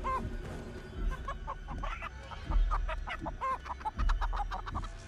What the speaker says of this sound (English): be distracted by the chickens